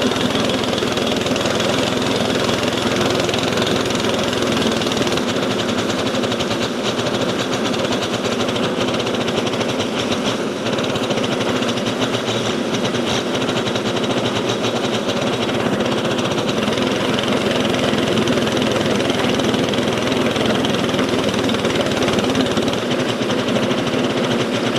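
A petrol Westermann block paving weed ripper runs continuously, a loud, steady buzzing engine with a rough mechanical rattle and no pauses.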